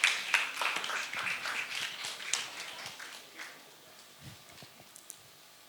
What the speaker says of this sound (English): I request all of you to welcome him with a thundering round of applause.